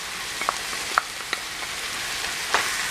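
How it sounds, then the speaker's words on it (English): Ground beef, rice and marinara sauce sizzle softly in a pan while a spatula stirs, with a few faint scrapes over a constant low frying hiss. "And give it a lovely little stirring while we add that marinara sauce."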